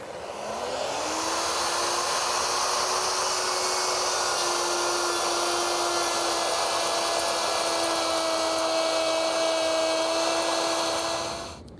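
A handheld router fitted with a 1/2-inch rabbeting bit cuts a rabbet in MDF, a loud steady high-pitched whine that spins up at the start and holds with no break for about eleven seconds before winding down at the end.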